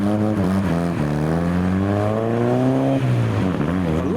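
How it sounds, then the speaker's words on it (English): A Toyota MR2 with a VVTi engine pulls away over speed bumps at a tuner car meet, its engine note rising loud and steady through the gears with harmonic revving and a brief dip near the end, no talk. "MR2 with no time for speed bumps is now departing. VVTi kick in there."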